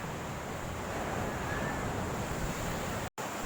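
Ocean waves washing up on Santolo beach, a steady broad wash of surf and wind that fills the whole stretch, broken by one brief dropout near the end, with no talking.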